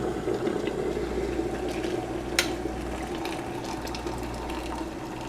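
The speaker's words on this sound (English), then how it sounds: "now I'm going to add my hot boiling water" Hot boiling water is poured into a pot of chopped leaves with a continuous close gurgling rush and a low steady rumble, with no talk.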